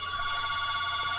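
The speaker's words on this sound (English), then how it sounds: "The phone is ringing." A telephone rings steadily and loudly through the whole short stretch, a continuous electronic ringtone hanging over a faint low hum, with no voices.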